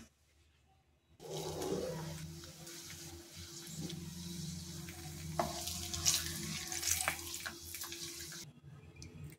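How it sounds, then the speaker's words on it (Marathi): Papad deep-frying in hot oil, a steady bubbling, rushing sizzle that starts abruptly and continues loud and close for several seconds before cutting off. "चला आपण फ्राय करून घेऊया"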